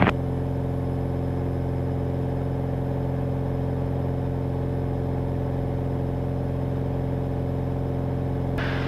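Cirrus SR20 light aircraft engine drones steadily during departure, a loud, even mid-pitched hum with strong harmonic tones heard from inside the cabin, unbroken throughout.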